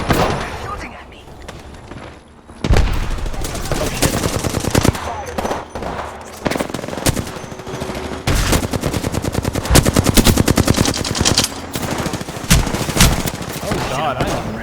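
Rapid automatic gunfire in the video game Apex Legends, dense bursts of close shots after a quieter opening, with a voice talking over some of it.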